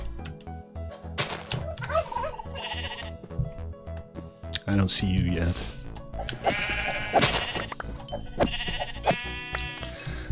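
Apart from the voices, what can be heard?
sheep bleating in modded Minecraft video game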